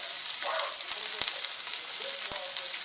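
Thin marinated burger patty frying in a pan, a steady soft sizzle with small crackles and pops scattered throughout, close and moderately quiet.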